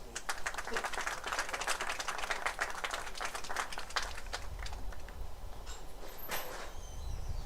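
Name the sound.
applause for both baseball teams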